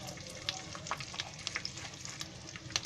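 Curry leaves and a pinch of asafoetida hit hot oil for a moong dal khichdi tempering, giving a lively, crackling sizzle with sharp spitting pops, close and steady throughout.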